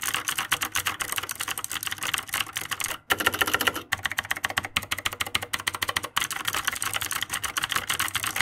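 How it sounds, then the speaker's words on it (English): A mechanical keyboard with Cherry Green equivalent clicky switches and an aluminum and ABS body clatters with fast, continuous typing. Dense, sharp clicks sound close up, broken by a couple of very brief pauses. "Just listen at how satisfying the clicks are."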